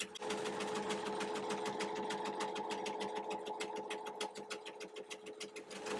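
An embroidery machine stitching a satin border onto a shirt, running in a steady, rapid needle rhythm with a constant mechanical hum, close and clear with no voices.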